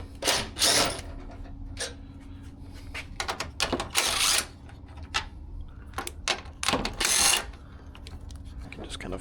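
A ratchet with a 10mm socket backs out the headlight screws on a 2002–2007 Subaru WRX, making several close bursts of rapid clicking separated by short pauses.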